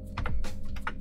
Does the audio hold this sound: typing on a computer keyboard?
yes